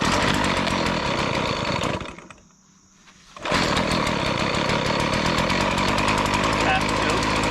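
A cheap secondhand chainsaw's small two-stroke engine running loud and close, dropping out briefly for about a second before roaring back up at a steady high idle.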